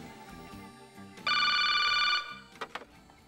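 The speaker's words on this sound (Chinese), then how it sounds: "突然电话声响起了" An old telephone bell in a police station rings loudly and steadily for about a second, followed by a couple of brief clicks as the receiver is handled, over a quiet room with no talk.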